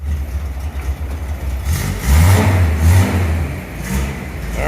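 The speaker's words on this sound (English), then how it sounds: "sounds like the car is running good now with air conditioning" Nissan Z classic car engine running with air conditioning on, rising into a loud rev midway and settling back, close by with no talk.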